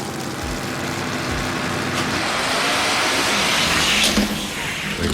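Loud, continuous roar of drag racing engines as a Midnight Black Chevelle and a Thunderbird Pro Mod run a grudge race, a broad steady wall of engine noise swelling slightly toward the end with no pauses.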